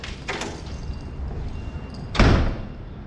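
A building's front door slams shut with a single loud thud, standing out from low background noise.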